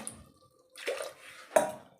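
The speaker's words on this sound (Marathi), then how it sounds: "आता याला मी एक अर्धा तांबे पाणी घालत आहे।" Water poured into a pressure cooker holding cut drumstick pods, heard as two short splashing pours with a metallic ring from the vessel, close and fairly quiet, separated by a near-silent pause.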